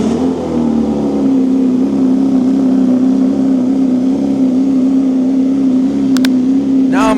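A BMW S1000R motorcycle idling loudly with its exhaust's DB silencer off, a steady close rumbling drone that holds throughout, with a brief clatter near the end.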